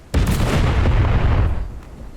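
A cannon fires during a World War II beach invasion in a video game, one loud, sudden boom that rolls out into a rumbling decay over about two seconds.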